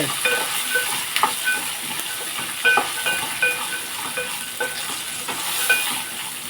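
Tomato pieces fry in a hot pan with a close, continuous hiss and sizzle, broken by frequent stirring scrapes and small spits, and no one talks.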